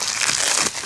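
A fresh roll of tape being opened in a garage gives a brief, close crinkle of packaging, a quick crumpling rustle lasting under a second.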